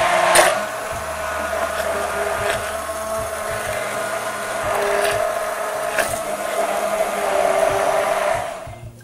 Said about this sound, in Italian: uniamo un po' di crema di latte e frulliamo la nostra salsa con un frullatore ad immersione